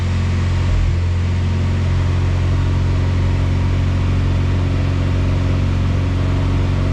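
A car engine idles steadily at a slightly raised speed while its coolant warms up after the cooling system was opened, giving a constant low hum and whir with no talk over it.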